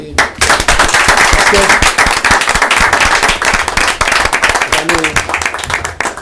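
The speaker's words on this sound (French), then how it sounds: "On applaudit comme ça." Loud, sustained applause from a live show audience for a musician, dense overlapping claps running for several seconds with crowd noise underneath.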